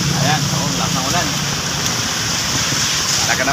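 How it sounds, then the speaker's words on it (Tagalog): Heavy rain pours down outdoors on a street vendor's way home, heard from under a mango tree as a loud, dense, steady hiss. A voice talks over it. "inabot tayo ng ulan kung saan pauwi na tayo. Ayan, lakas ng ulan."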